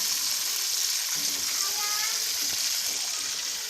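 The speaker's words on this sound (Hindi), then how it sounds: "हम इनको अच्छी तरह से 5 मिनट तक फ्राई कर लेंगे।" Fish heads fry in hot oil with a steady, close, dense sizzle and crackle that holds even throughout.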